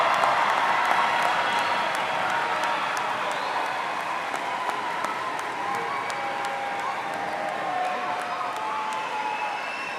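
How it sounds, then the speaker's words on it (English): A large crowd applauds the graduating class of 2026 at a high school graduation ceremony, steady sustained clapping with scattered cheers and whistles filling a big space for the whole stretch. "Let's give our 2026 graduates another round of applause."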